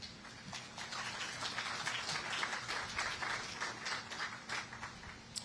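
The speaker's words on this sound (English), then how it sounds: "that does deserve a hand clap." A crowd applauds steadily, many hands clapping at a moderate distance, with a faint low hum running underneath.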